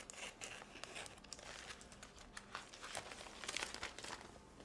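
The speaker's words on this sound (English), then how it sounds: "Now I'm going to just take my scissors and cut down the side of the bag." Scissors cutting down the side of a heavy plastic Ziploc bag in a kitchen, faint crinkling and snipping with scattered crackles, close and quiet, no talking.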